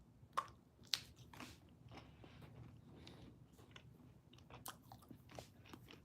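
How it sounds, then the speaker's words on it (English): Small bites of food chewed slowly and thoroughly close up, with soft crunching and biting clicks repeating irregularly at low volume, two sharper bites near the start, no talking. "I'm practicing taking small bites, chewing completely,"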